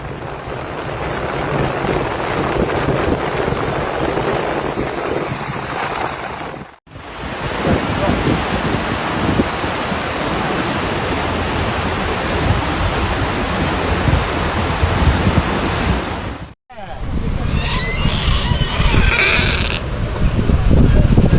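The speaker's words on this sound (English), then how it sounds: "The Crati River overflows, a river of water and mud between homes and fields." The overflowing Crati River near Cosenza, Italy, floods with water and mud between homes and fields, making a loud, continuous broadband roar of rushing water. The roar runs for about twenty seconds and is interrupted only by two brief cuts.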